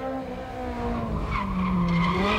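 A Toyota AE86 slides sideways in a drift, its tires squealing in long wavering tones over a loud revving engine, close and continuous.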